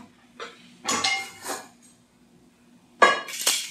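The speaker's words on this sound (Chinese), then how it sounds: "那现在呢，我们可以把锅盖打开来" The lid of a multi-cooker pot is lifted and handled, giving a few separate clanks and scraping clinks of metal and glass with quiet pauses between them, up close.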